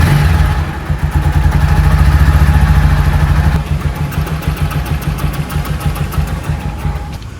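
A motorcycle engine idles steadily and loudly up close after a tappet noise repair, a dense even rumble with a fine rapid patter and a slight drop in revs partway through.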